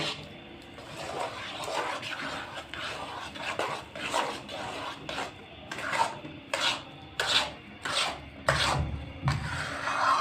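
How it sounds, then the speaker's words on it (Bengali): Chana dal halwa is stirred in a pan, giving repeated loud rasping scrapes of a spoon against the pan bottom in an uneven rhythm, close up and with no voices. "দেখুন কত সুন্দর করে হালুয়াটা নাড়া হচ্ছে এবং সব উপকরণগুলো দিয়ে মেশানো হচ্ছে"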